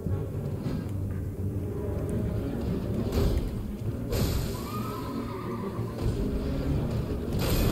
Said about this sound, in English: Or he just summoned another flipping horse.